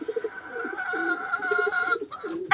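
Pigeons coo in a loft, with repeated low throaty coos close by and a brighter tonal bird call running through, ending in a short rustle.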